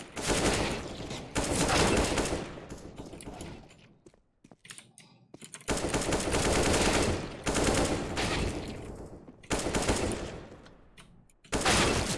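Bursts of gunfire from the video game CS:GO, several loud sprays and volleys with brief pauses between them, a quieter gap in the middle, and no talking.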